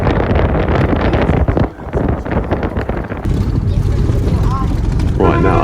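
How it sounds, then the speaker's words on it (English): Strong wind roars and buffets through an open vehicle window on a drive near Dadyal in Azad Kashmir, Pakistan, as a loud, continuous rush with brief dips. "Obviously kind of windy through the window."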